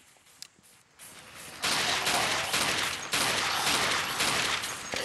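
Rapid, sustained gunfire in the zombie shooter video game Dead Trigger, a loud dense burst of shots that starts faintly and becomes continuous and heavy, with no talking.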